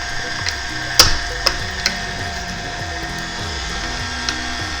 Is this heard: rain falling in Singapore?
no